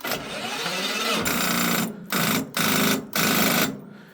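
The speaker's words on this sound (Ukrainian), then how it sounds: "Пробуємо, дивіться, без бустера заводю." Small walk-behind tractor engine cranking and catching without a booster pack, a close, loud rattling run that cuts out and restarts in several short bursts.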